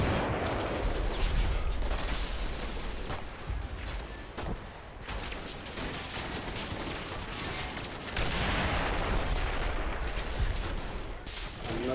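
Sustained gunfire and falling mortar rounds in the wargame Combat Mission: Battle for Normandy, a dense, steady wash of crackling shots and thumping impacts that rises and dips slightly, with no talk over it.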